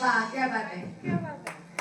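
Brief hand clapping from an audience during a devotional Marathi kirtan narration, heard under a man's spoken exclamation, with a couple of sharper claps near the end.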